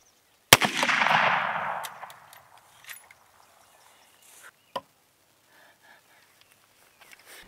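A gunshot fired at a lead knife blade, one sharp loud crack followed by a decaying ringing tail, then a few faint scattered knocks and a second smaller impact.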